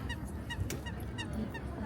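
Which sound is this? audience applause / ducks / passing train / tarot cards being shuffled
ducks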